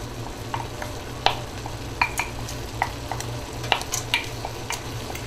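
Chili peppers tossed into caramelized onions in a pan for turkey chili, a low steady sizzle under scattered sharp clinks and scrapes of stirring.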